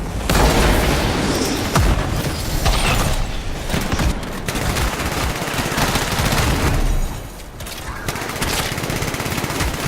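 Dense rapid gunfire from the video game Anthem, with continuous automatic bursts, booms and blasts filling the whole stretch loudly and without pause.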